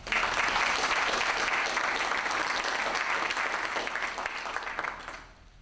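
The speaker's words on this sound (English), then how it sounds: "And so I want you now to give a great big hand clap to Betty Jean Grant." A crowd applauds loudly and steadily, a dense wash of clapping that slowly fades toward the end.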